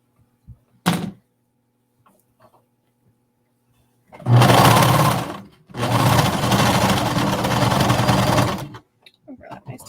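A sewing machine stitching an agility tank top runs in two close bursts, a short one and then a longer steady whir, after a brief thunk and in otherwise quiet surroundings.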